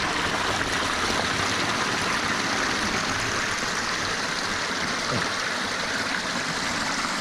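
Clear mountain stream flowing through Carpathian autumn forest, a steady, even rushing of water that continues unbroken throughout.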